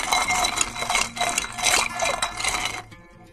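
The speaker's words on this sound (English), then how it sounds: "We'll just give it a nice small stir." Ice clinks and rattles steadily in a glass as an orange punch cocktail with tequila is stirred, in bright, continuous jingling pulses lasting about three seconds before cutting off abruptly.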